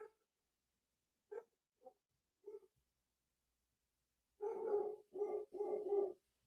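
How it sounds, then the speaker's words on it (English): Dogs bark at night indoors, several isolated muffled barks followed by a louder cluster of three quick barks, heard at some distance with no talk. "Oh my God, my dogs are going crazy."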